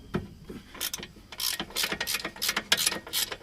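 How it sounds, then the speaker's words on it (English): A hand wrench works 18 mm brake caliper bolts on a 2008 Dodge Caravan, giving a rapid series of sharp metallic ratcheting clicks in uneven bursts, close and fairly loud with no talking. "I don't have an 18 millimeter socket in my set, so I'm gonna get these with a wrench."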